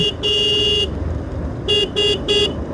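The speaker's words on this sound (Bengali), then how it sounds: "আমি হর্ন দিচ্ছি তারপরে সাইড দিচ্ছে না" A vehicle horn honks on a narrow rural road between rice fields: one long blast, a pause, then three shorter toots in quick succession, loud and close over low engine noise.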